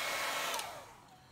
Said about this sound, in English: speed the process up with our handy dandy hair dryer